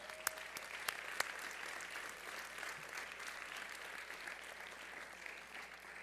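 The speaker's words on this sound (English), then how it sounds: "Let's give ourselves a round of applause." A college convocation audience applauding, a sustained, even roar of many hands clapping with a few sharp nearby claps early on, heard from a distance in a large hall.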